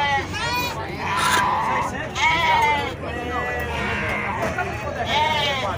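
Sheep and goats bleating at the Sumé goat and sheep livestock fair in Paraíba, repeated wavering calls close by, mixed with the hubbub of people talking around the pens.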